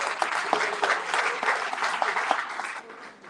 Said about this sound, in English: Real big round of applause for our captain